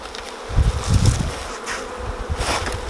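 Honey bees buzzing around hive frames during a two-frame split, a close, steady droning hum with swelling bursts as bees move near, no voices.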